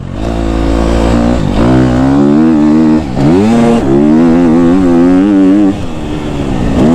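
KTM 250 SXF four-stroke motocross bike engine revving hard, climbing and dropping in pitch through several sustained pulls, close and loud with no talk.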